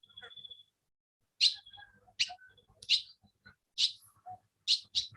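Sharp, bright bird chirps ring out at intervals, each a quick high tweet, with a thin whistle at the start and quiet outdoor background.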